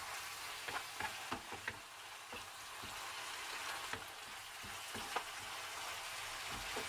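Spinach and zucchini stir-fried in a pan for a plant-based pasta, giving a steady close sizzle with repeated scraping stir strokes throughout and no talk.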